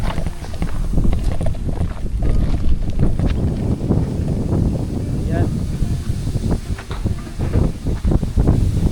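Strong wind roaring steadily across the microphone at a housing construction site in Batulao, a loud constant rumble with gusty buffeting throughout.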